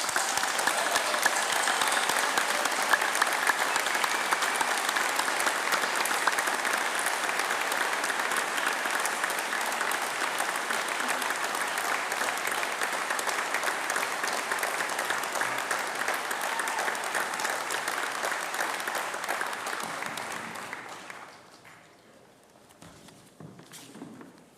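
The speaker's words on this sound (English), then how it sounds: "giving yourselves a massive round of applause" Graduates of the class of 2024 at a university graduation ceremony applaud themselves in a long, loud, sustained round that runs about twenty seconds before tapering off to scattered claps and quiet.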